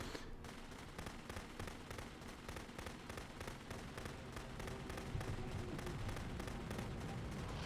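Rapid, steady gunfire from a player-fired gun in The Beginner's Guide, shots crackling one after another in a dense, evenly paced stream that stays loud throughout with no break.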